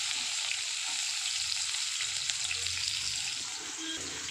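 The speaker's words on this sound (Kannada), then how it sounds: "ಸೊ ಈಗ ಇದಕ್ಕೆ ನಾನು ಈರುಳ್ಳಿಯನ್ನು ಹಾಕ್ಕೊಳ್ತಾ ಇದ್ದೀನಿ." Onions fry in oil with popped mustard seeds for an ivy gourd palya, giving a steady, moderately loud sizzle with faint stirring and clinks.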